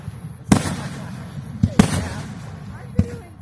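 Three sharp firework bangs, spaced apart at a moderate distance, each with a short rumbling tail over steady background noise and faint voices.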